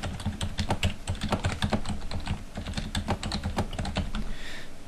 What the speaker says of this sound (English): Up here, we can type a message.